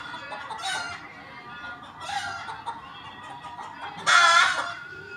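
A rooster and chickens cluck close by in three separate bursts. The last burst is the loudest and most excited, and no one speaks.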